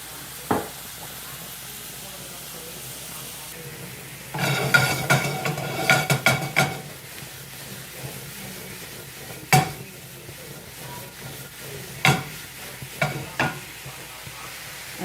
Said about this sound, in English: I'm just going to saute them with some olive oil